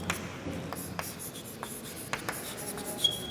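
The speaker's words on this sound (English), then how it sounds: "I am writing here" Pen writing on paper during a maths lesson, a quiet run of light scratchy strokes and sharp taps spaced irregularly, close and alone with no talk.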